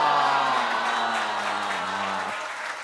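Studio audience applause and cheering at a Spanish-language TV show, a broad dense wash of clapping and crowd noise fading slightly toward the end, with a sustained voiced tone cutting off near two seconds.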